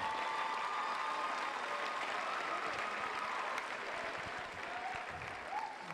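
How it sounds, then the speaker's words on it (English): Audience applause at Pittsburg State University's Yell Like Hell homecoming program, sustained crowd clapping heard from a distance in a large venue, fairly even throughout with faint voices and a few whistles. "Let's give them all a big round of applause"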